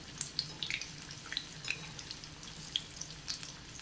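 Egg snack pieces frying in a pan, a soft sizzle scattered with small crackles and pops at irregular moments, fairly quiet and with no talking.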